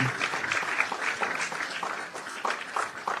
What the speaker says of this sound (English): Another round of applause for the Bachelor of Pharmacy